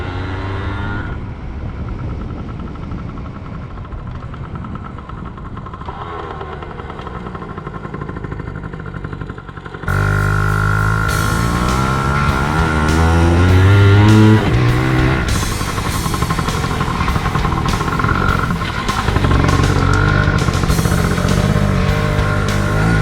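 A Yamaha PW80 dirt bike, stock, runs its small engine while being ridden. Its loud buzzing drone rises and falls through revs and gear changes, continuous and close for the whole stretch with no talking.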